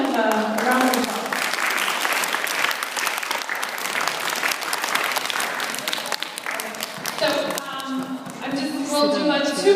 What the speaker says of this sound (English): let's give them a hand of a round of applause